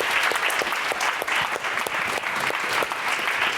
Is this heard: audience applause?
yes